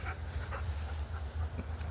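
A dog pants steadily close by, quick rhythmic breaths with a faint whimper, heard alone at moderate volume.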